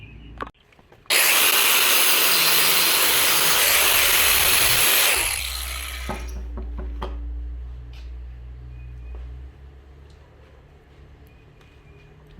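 Heater return line on a 1977 MGB being cut: a loud, steady, rasping cutting burst lasts about four seconds, then stops abruptly and gives way to quieter clicks and handling noises nearby.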